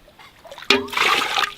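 Clams dumped from a rinse into a pail of water outdoors in the wilderness: a sudden close splash, followed by a second of continued sloshing and trickling water, with no talk.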